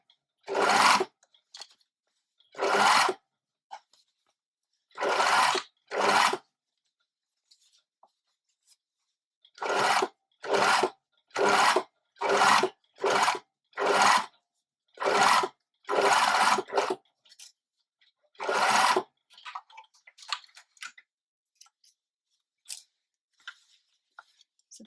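A sewing machine edge stitching culottes fabric runs in repeated short bursts of rapid whirring, about a dozen runs with pauses between, close and clear with no talk.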